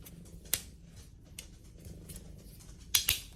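A 3D-printed triple-decker fidget slider snaps and clicks in sharp, separate hits: one early crack, a few softer slides, then a quick double snap near the end, all close and dry with no voices.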